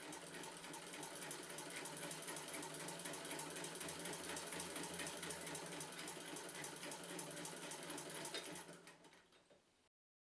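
A vintage Singer 15K sewing machine is turned by its hand crank, giving a continuous, even mechanical whir and clatter that runs steadily for several seconds and then winds down to silence.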